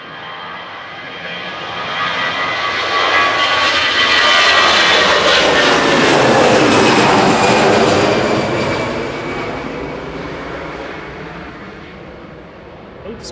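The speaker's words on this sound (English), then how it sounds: "Departing now, EasyJet from Victor Charlie. Flight 2159 to Izmir. This is GEZRZ and A320 Classic." An EasyJet Airbus A320 Classic, registration G-EZRZ, departs Manchester Airport for Izmir. Its engine roar swells from a steady rumble to a loud peak midway, then gradually fades as the jet pulls away.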